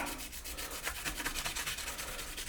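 Steady rubbing across a copper surface being wiped clean during an AMD 7950X PC build, a continuous close scratchy swishing with regular back-and-forth strokes and no talking.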